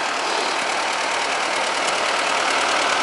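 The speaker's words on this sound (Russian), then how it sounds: "Пусть трактор постоит, погреется." A T-40 tractor engine idles in winter, warming up: a loud, steady, close mechanical rumble with a slight knocking texture that runs evenly throughout without talk.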